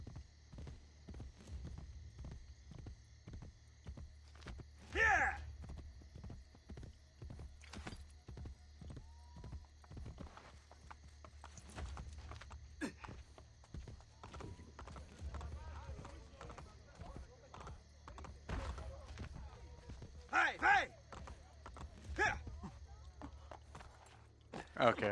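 Horse hooves clip-clop at a walk in Assassin's Creed: Brotherhood, a steady patter of hoofbeats with sharper louder strikes around the middle and near the end, under low game ambience and a voice talking.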